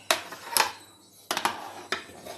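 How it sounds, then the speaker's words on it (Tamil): A ladle stirs and scrapes milk reducing into palkova in a pot, giving four or five sharp, close metallic scrapes and knocks spaced irregularly, with quieter stirring between them. "இப்போ அடி பிடிக்காமல் சுற்றி ஒட்டிக்கிட்டு இருக்கிறதெல்லாம் இப்படி கரண்டியால் நல்லா எடுத்து விட்டு நல்லா கிண்டணும்."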